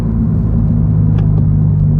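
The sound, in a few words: Toyota GR86 with AWE track exhaust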